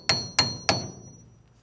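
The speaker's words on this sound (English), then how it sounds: "you might just have to give this a tap with a hammer" Three quick metallic hammer taps ring out on a bolt in the brake spindle of a 1957-63 full-size Ford, evenly spaced, close and sharp, each leaving a short ringing tail.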